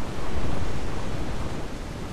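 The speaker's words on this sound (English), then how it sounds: "Water spout, man! Steer away!" A waterspout roars over the open sea in Assassin's Creed Black Flag, a dense broadband rushing of wind and surf that is loud and steady at the start and eases slightly toward the end, with no voices.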